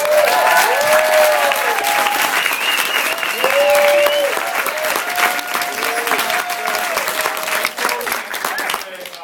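A conference audience at Summit 2013 gives sustained, dense applause that stays loud and close for several seconds, with whoops and cheering voices riding over the clapping before it gradually thins out.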